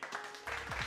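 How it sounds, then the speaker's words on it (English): A short burst of applause plays as a sound effect, fairly loud and close, lasting under a second with no talk over it. "Let me get the clapping."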